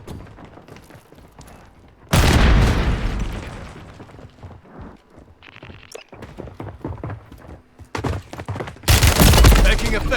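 Loud grenade blasts and bursts of gunfire in the Warzone video game, a heavy explosion erupting near the start and another near the end, with scattered shots and thuds between them.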